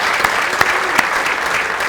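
Steady, dense audience applause fills a sports awards ceremony, loud and continuous with a few sharper individual claps standing out.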